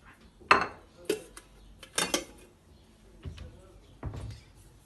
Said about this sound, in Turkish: Şöyle koyayım da şöyle porselen tabağa koyayım.